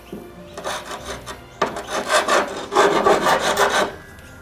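A file rasps back and forth along the cut end of a wooden hive division board, clearing burrs in a series of close, rhythmic scraping strokes that grow stronger after a short pause.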